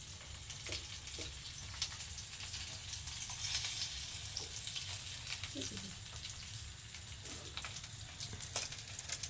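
Water lily fritters fry in a pan, a faint crackling sizzle with scattered small pops, heard quietly throughout.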